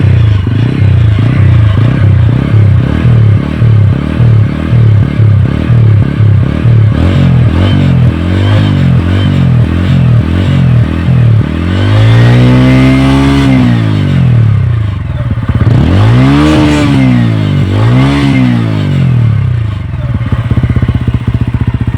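Exhaust of a serviced TVS Ronin motorcycle, close and loud: a steady, pulsing idle gives way to repeated throttle blips, with the engine note swooping up and back down several times.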